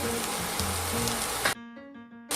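An andouillette stuffing mixture sizzles steadily as it fries in a pan, a dense, continuous crackle close by that cuts out near the end and then briefly returns.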